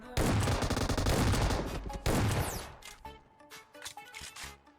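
Rapid bursts of gunfire in PUBG Mobile, including shotgun blasts fired at a distant enemy, loud and dense in two heavy volleys before thinning into scattered, quieter shots.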